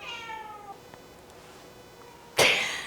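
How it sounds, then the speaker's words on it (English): A cat gives a soft, drawn-out meow near the start, then a loud sudden burst like a sneeze or snort breaks the quiet. "There goes the kitty."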